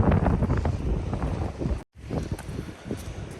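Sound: strong cold wind

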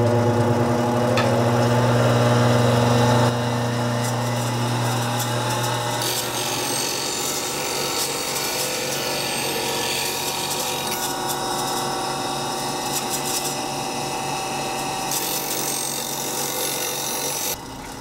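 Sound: sharpening a woodturning spindle tool

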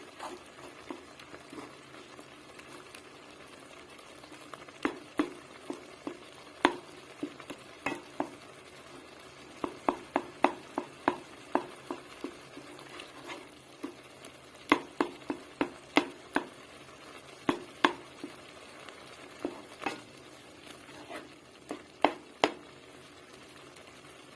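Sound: tomato paste sautéing in a pot for soup

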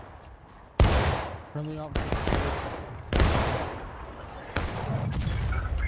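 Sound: musket gunfire in video game War of Rights battle

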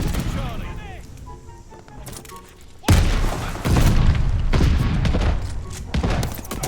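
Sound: grenade explosion in video game Call of Duty: Vanguard

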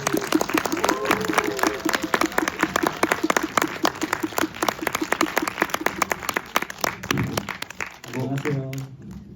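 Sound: audience applause

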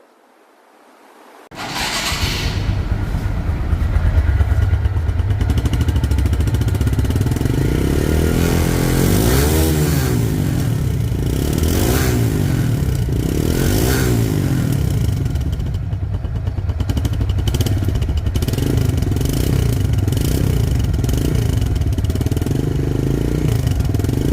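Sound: motorcycle engine running

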